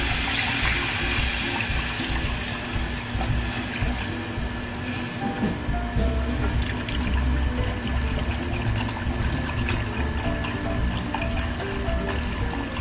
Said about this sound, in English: We're just going to whisk in our broth here.